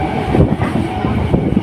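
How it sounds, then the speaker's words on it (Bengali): A passenger train bound for Medinipur rumbles loud and close with a steady low roar, heard from on board as it nears Deulti station. "মেদিনীপুর পর্যন্ত যাওয়ার এই ট্রেনটি পরবর্তী স্টেশন দেউলটি।"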